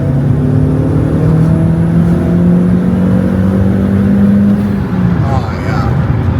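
A turbocharged Mk1 Audi TT 225 8N pulls at full throttle in third gear from low revs. Its close engine note climbs steadily for several seconds before easing off near the end.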